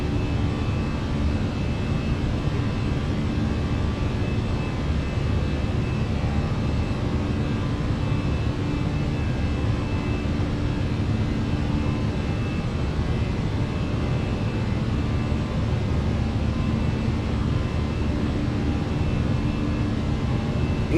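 A Fenix A319 airliner in Microsoft Flight Simulator climbs out after a Bhutan Airlines departure, its jet engines a loud, constant roar that holds unbroken throughout.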